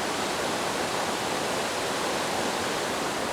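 A strong waterfall at Enders Falls, in full flow, gives a steady loud broadband rush that fills the whole stretch without a break and has no voices over it.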